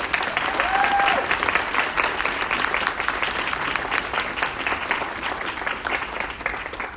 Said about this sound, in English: can you all join me in giving Carolyn a round of applause for pulling this together?